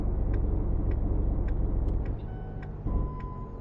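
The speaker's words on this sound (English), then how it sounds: "I'm going to turn the truck around and pick up the logs." A truck in the video game Truck Driver: The American Dream turns around, its engine a low, steady rumble with a series of regular ticking clicks and a brief faint hiss near the end.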